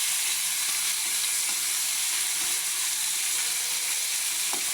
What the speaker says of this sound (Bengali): এক পিস করে মাছগুলো ভেজে নেব